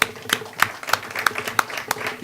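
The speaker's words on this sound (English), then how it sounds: "I think we should applaud them" Sparse, scattered clapping from attendees at a community meeting on homelessness, a handful of distinct claps spaced about every third of a second over a murmuring room.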